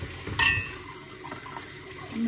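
Cold tap water runs while dishes are washed in a sink: a faint, steady water flow with a brief louder splash near the start, close by and quiet, no speech.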